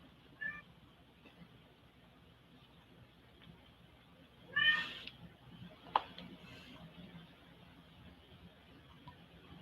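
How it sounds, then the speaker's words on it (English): A pet cat meows a few times, faint and somewhat distant, in brief calls separated by several seconds against a quiet indoor background, with one slightly longer cry midway. "Can y'all hear my cat?"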